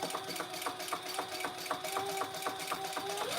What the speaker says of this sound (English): let's top stitch along these the long edges